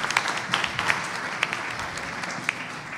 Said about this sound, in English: Let's give another big round of applause to all of these kids.